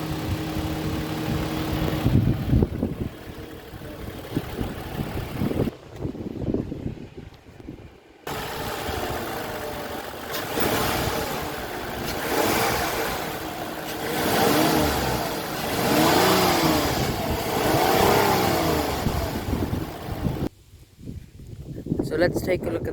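The V6 engine of a 2021 Toyota Highlander XSE AWD idles and revs in several surges, broken by short silent gaps, with a voice talking over parts of it.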